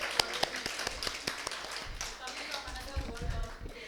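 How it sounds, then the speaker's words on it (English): Audience gives a round of applause after a speech, sharp separate claps first, then a softer smattering of clapping with voices murmuring underneath. "can we give a round of applause for our own amazing experience?"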